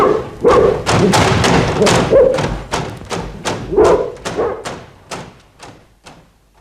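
A series of heavy, irregular thumps as a dog stands against a door, loud at first and gradually spacing out and fading, with faint dog whimpers mixed in.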